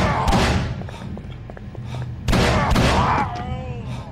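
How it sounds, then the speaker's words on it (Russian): Gunfire in the Call of Cthulhu video game: heavy booming shots in two loud bursts with thuds between them, close and punchy, with brief ringing tails. "Откуда стрельба?"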